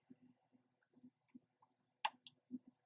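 Computer mouse clicks while placing an order in dental lab design software, a series of sharp, quiet clicks spaced irregularly, with a louder double click near the end, alone in a quiet room.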